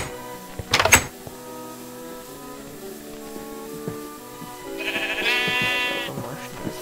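Sheep bleating in the video game Minecraft, with a short burst near the start and a longer wavering bleat later, heard fairly close over quiet background game sounds.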